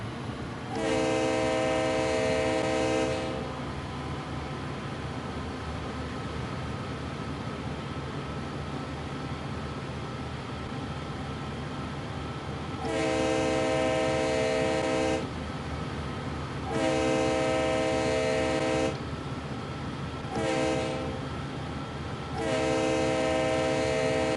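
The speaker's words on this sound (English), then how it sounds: "Oh, there's another train." A passing train in Train Sim World 3 on the Sand Patch Grade sounds several loud, sustained horn blasts, spaced apart, over a constant rumbling roar of rail and engine noise.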